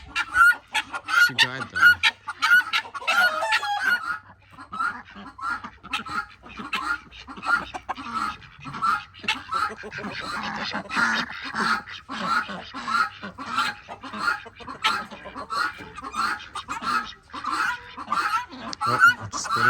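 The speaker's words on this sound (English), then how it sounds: "Come on, birds, go inside. And be quiet." Chickens cluck steadily and close by in a busy, overlapping chorus, with a rooster-like call among them, while a person speaks over the flock.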